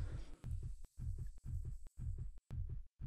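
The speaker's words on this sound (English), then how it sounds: "I'm hearing like a heartbeat" A game heartbeat effect in Black Clover Mobile thumps in a steady low rhythm, with about six beats separated by short silent gaps. No one speaks.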